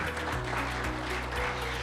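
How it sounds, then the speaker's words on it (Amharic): An audience applauds warmly at a housing lottery winners' event, with steady, dense clapping that fills the room without a break. "ሞቅ ያለ ጭብጨባ ከሌላው በተለየ"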